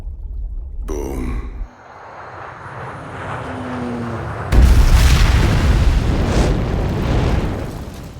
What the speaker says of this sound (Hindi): सूत्रों के अनुसार विस्फोट का असर बहुत बड़ा है